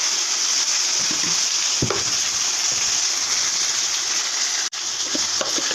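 Tilapia coated in mustard paste with turmeric and salt sizzling steadily in a hot pan, a loud, constant frying hiss with occasional stirring scrapes and one brief dip in the sound.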